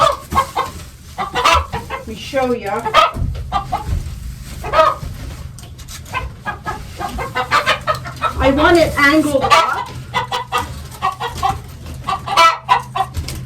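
Chickens cluck and squawk repeatedly close by while a person talks over them, with rustling and movement in the background.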